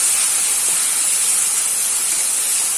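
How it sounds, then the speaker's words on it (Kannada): Chopped tomatoes tipped into a hot frying pan while cooking crab sukka give off a loud, steady, close sizzle with a bright hiss and no voices. "ಹೆಚ್ಚಿಟ್ಟಿರುವಂಥ ಟೊಮ್ಯಾಟೋನ ಇಲ್ಲಿ ಹಾಕುವಂಥದ್ದು"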